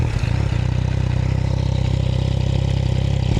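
A motorcycle fitted with a Yoshimura exhaust idles nearby with a steady, throbbing, low pulse and some mechanical clatter. The sound is even throughout and no one speaks.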